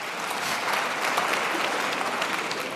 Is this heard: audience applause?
yes